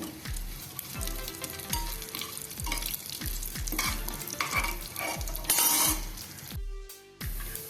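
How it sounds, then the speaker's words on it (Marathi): Chana dal, urad dal and curry leaves fry in hot oil for tomato masala rice, a steady sizzle broken by regular scraping stirs about once a second, close and fairly loud, with a sharp crackling burst near the end. "आता आपण चना डाळ उडीद डाळ आणि कढीपत्ता घालूया थोडंसं आपण हे फ्राय करून घ्यायची आहे"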